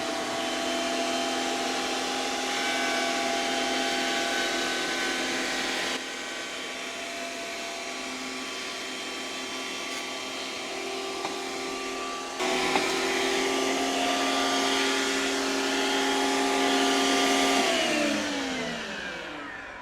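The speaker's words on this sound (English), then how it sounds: "this is a Harbor Freight 15 amp spiral head jointer" A Harbor Freight 15 amp spiral head jointer flattens a vintage wood beam, a loud steady whine with a shifting cutting roar as the beam passes over the head, then spinning down at the end.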